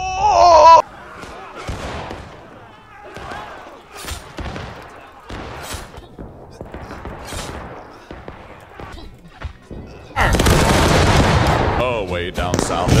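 Musket and rifle volleys from War of Rights, a Civil War shooter, crack repeatedly in scattered bursts, ending in a loud sustained roar of massed fire, with voices calling out between shots.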